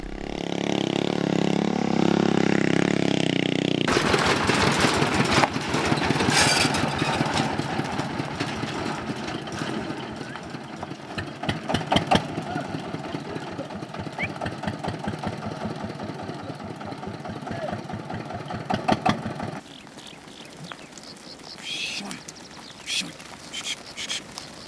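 Shepherds' motorcycles pass with their sheep on a high-altitude Tibetan road, engines chugging steadily with rapid firing pulses that fade as they ride off, then quieter engine sounds linger near the end.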